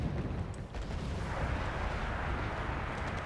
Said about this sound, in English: Quite a bit of mortar fire responding to the position of those Acacias